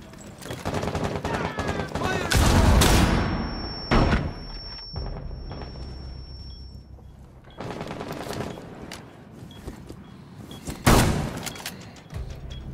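Bursts of automatic gunfire and heavy booms crowd a video game firefight, with loud volleys rising and falling, a sustained high ring in the middle, and voices calling out over the shooting.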